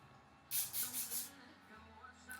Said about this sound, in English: I'm gonna spray from quite a distance